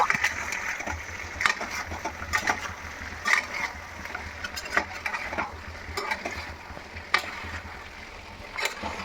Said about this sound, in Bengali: তারপরে এই যে সব দিয়ে ভালো করে ফের একে ভুনে নেব